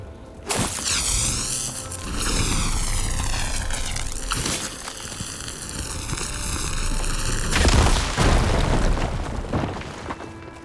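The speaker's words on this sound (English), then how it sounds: "Should be able to blow up that fire gleam." A fire gleam blowing up in Horizon Forbidden West, a loud deep boom followed by a long rolling rumble with shimmering tones, a second burst near the end, and no talk.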